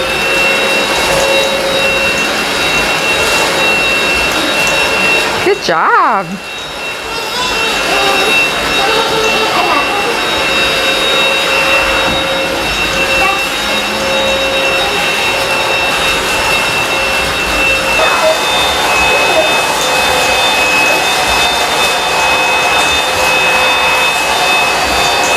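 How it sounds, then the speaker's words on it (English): A loud Eureka Rapid Clean Pro cordless vacuum cleaner motor whirs steadily throughout with a brief dip partway, while a voice speaks briefly over the noise. "how easy it is to use the vacuum"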